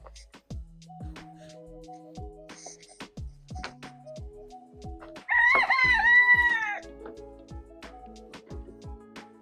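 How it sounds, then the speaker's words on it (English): Chickens cluck around a backyard coop near an orchard, sharp close clucks in an uneven rhythm, then a rooster crows loudly midway for about a second before the clucking resumes. "so we can keep these chickens on the ground where they should be"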